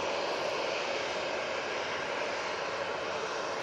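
An airliner taxiing along taxiway Victor Alpha at Manchester Airport gives a steady, broad engine roar with no break over the few seconds, fairly close and even in level.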